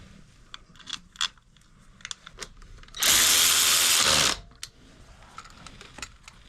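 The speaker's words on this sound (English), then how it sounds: "I'll send them in with the power ratchet." A power ratchet drives in bolts while fixing the starter clutch on a 1991 Yamaha Venture Royale motorcycle, giving one loud, close burst of about a second and a half among scattered clicks and clanks of handling.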